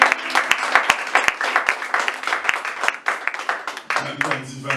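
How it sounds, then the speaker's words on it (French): A church congregation bursts into applause, with sharp scattered claps building into a dense, lively round. Voices and cheering rise under and through the clapping, and a voice carries over the fading applause near the end. "Est-ce que tu peux acclamer pour la parole de Dieu?"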